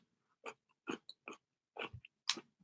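Crunchy pickle chewed close to the mic, with about six separate wet, crisp bites and crunches spaced by short silences, quiet and alone.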